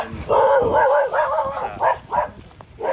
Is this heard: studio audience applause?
no